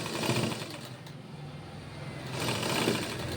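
Motorized sewing machine stitching a blouse, running as a steady mechanical whir with a rapid needle rhythm that swells slightly near the end, close and moderately loud with no talk.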